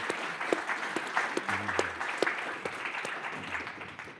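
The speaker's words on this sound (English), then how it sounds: "Please applaud Jan Brzezinski, Andrew Michta" Audience applause fills a conference panel session on Poland and transatlantic partnership, a steady patter of clapping from a sizable crowd lasting about four seconds before tapering slightly at the end.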